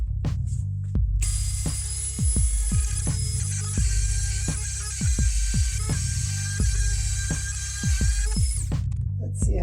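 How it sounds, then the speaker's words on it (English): A Dremel rotary tool fitted with a guide cuts a slot, its high, steady whine running for about seven seconds, punctuated by repeated low knocks and clatter as it is guided along the line. "We're going to take the Dremel with this guide on it."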